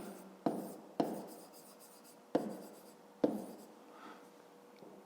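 A pen scratches across notebook paper during a fifth-grade maths exercise, with soft, close strokes and several sharper taps where the pen lands, quiet and alone.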